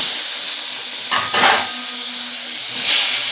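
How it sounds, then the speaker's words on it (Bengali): Shrimp hissing and sizzling in hot oil with turmeric and salt, a steady close frying hiss that swells in short bursts as the pieces are stirred, with no talk. "কেটে রাখা চিংড়ি মাছগুলোকে দিয়ে ভালো করে ভেজে নেব"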